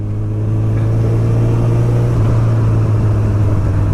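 A 2019 Honda CB1000R Plus motorcycle fitted with a Termignoni GP2R exhaust rides along at steady speed, its engine a continuous close drone with a low, even hum.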